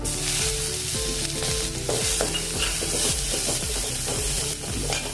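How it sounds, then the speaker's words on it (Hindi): Cumin seeds and asafoetida crackle in hot oil in a pan as a ginger and green chili paste goes in. The loud, close sizzle comes with a busy run of rapid pops and stirring scrapes. "अभी जीरा तड़ने लगा है तो अभी इसमें डालेंगे अदरक और हरी मिर्च का पेस्ट"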